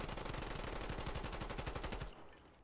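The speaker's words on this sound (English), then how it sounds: "Aw, dude. The FAMAS." FAMAS rifle gunfire in Call of Duty Black Ops fires as a rapid, loud automatic burst of evenly spaced shots for about two seconds, then cuts off into a fading tail, with no talking.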